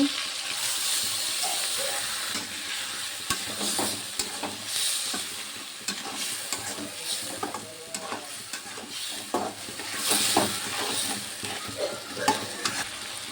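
Spices with salt and turmeric sizzle and bubble in a pan after a splash of water is added, with repeated stirring and scraping strokes over a continuous hiss, close and fairly loud.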